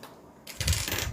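Clips snap onto a bag's lining to hold it against the zipper before sewing, giving a quiet start and then a louder run of close, crisp clicking and rustling.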